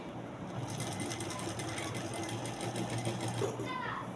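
A sewing machine stitches a round neck in a steady, fast mechanical whir that runs without pause, with faint voices murmuring in the background.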